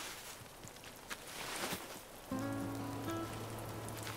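Rain patters steadily in Animal Crossing, a soft even hiss of drops, with a sustained tonal chime entering partway through and holding under it.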